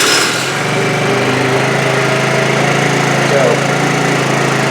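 A 2013 TaoTao Pony 50 scooter engine idles steadily and close after a valve adjustment, a constant buzzing drone with a fast regular pulse lasting throughout, with one brief word spoken over it.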